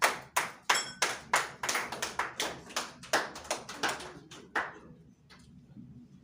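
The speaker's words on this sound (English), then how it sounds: "Can we clap for them," An audience claps for a presenting group at a Lagos civil society engagement event, a dozen or so distinct sharp claps in a quick uneven rhythm that thin out and fade near the end.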